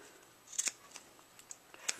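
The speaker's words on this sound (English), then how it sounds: "I'm going to go ahead and cut it so I can heat seal it" Scissors snip ribbon for a boutique hair bow in a few crisp, close cuts, short sharp metallic snips spaced across a quiet background with no talk.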